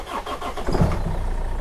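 A high-mileage Land Rover Freelander TD4 diesel with a flat battery, cranking and turning over with a rough, pulsing engine rumble, heard close for a brief moment.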